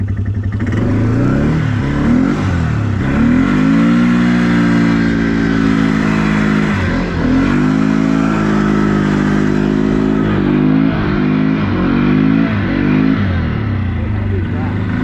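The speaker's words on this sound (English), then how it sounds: "Try some 4-wheel drive donuts." Quad ATV engine revving hard and steadily through four-wheel-drive donuts on a snowy sledding run, loud and close for the whole stretch with pitch rising and falling, while voices talk over it.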